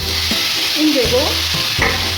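Chopped green chilies hitting a hot pan over low to medium flame, a loud close sizzle with brief stirring clatter, no voices.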